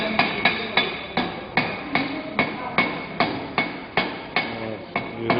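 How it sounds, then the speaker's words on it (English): A chipping hammer knocks solidified slag off a flat-position corner weld joint: about a dozen sharp, ringing metallic strikes at a steady, even pace, loud and close, with no voices. "use a chipping hammer to remove the slack"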